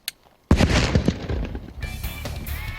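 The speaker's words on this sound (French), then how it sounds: "Mais quel bruit fait une explosion en réalité?" A real explosion goes off with a sudden heavy boom after a moment of quiet, followed by a long rumbling, crackling tail and debris noise that slowly fades.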